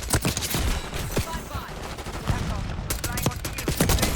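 Rapid semi-automatic shots from the DM10 marksman rifle in Black Ops 6, a dense, loud string of cracking reports with short gaps over game noise, a voice speaking in places.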